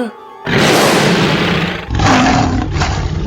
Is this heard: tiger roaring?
yes